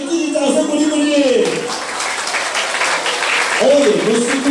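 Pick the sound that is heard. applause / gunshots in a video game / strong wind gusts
applause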